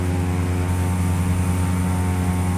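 A propeller aircraft engine drones steadily in the Prepar3D flight simulator during an autopilot climb, a loud, constant low hum with no talking.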